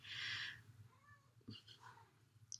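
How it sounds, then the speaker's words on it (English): A small cat meows softly indoors: one clear meow at the start, then fainter short chirps, quiet and close. "Little cat saying hi."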